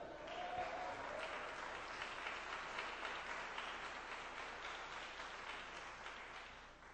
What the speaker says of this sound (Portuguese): Podem glorificar o nome dele e aplaudir a ele.